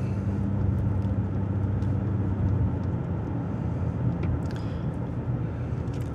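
Steady car engine drone heard from inside the cabin, a continuous low rumble with road noise holding level throughout, no talking.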